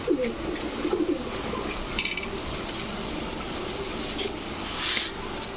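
Pigeons, including a male Blue Bar Budapest, coo softly a few times, mostly early on, against a quiet room with faint clinks in the background.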